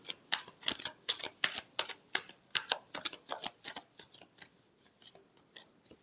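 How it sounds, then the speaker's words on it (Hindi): Tarot cards are shuffled in a rapid run of crisp, close riffling snaps that thin out toward the end, with no talking. "Last shuffle."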